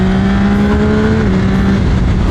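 A car engine revs loudly and close, a sustained drone whose pitch rises and dips slightly, filling the whole stretch without any voices over it.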